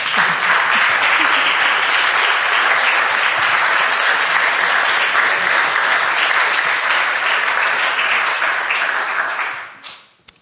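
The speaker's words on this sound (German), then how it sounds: "Man darf auch einfach klatschen, darüber freuen wir uns noch viel mehr" A conference audience at a demoscene talk gives long, dense, loud applause that holds steady for about nine seconds, then quickly dies away into near silence.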